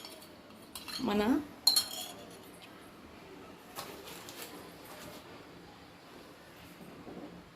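A spoon stirs custard powder into cold milk, with a brief burst of clinking metal against a dish early on, then quieter scraping and faint taps; a voice speaks briefly.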